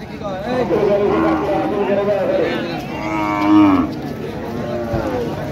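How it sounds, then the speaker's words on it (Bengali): Cattle moo loudly and repeatedly over a busy backdrop of people talking and crowd chatter at a crowded cattle market on a Jamuna river char in Nagarpur, Tangail. "প্রচুর পরিমাণে গরু উঠেছে আপনারা দেখছেন এখানে"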